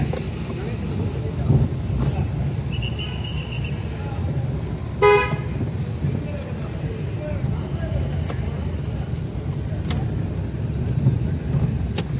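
Town buses and cars moving through a road in Pollachi, with steady traffic rumble, one brief horn toot near the middle, and people talking over it.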